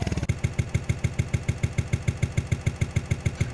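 A food-delivery motorcycle's engine idles close by after a brief start, a loud steady pulsing putter at a regular rhythm, alone without talk.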